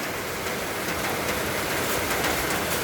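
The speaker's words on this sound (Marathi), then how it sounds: "बघा पुण्यामध्ये मुसळधार पाऊस पडायला लागलाय" A steady, dense wash of heavy rain pouring continuously in Pune, broadband hiss with no letup and no voices.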